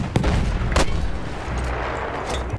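Mortar fire in a Battlefield 1 match lands as two sharp, heavy blasts close together early on, followed by a low rumbling battle din and another faint impact near the end, with no talking.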